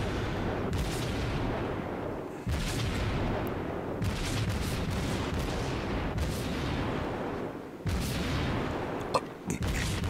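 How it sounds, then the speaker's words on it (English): Big naval guns boom in World of Warships as a Tier 4 Kuma cruiser fires its main battery at a slow-moving Kawachi battleship, a steady series of loud, heavy salvos layered over continuous rumbling battle noise. "so I start shooting the Kawachi"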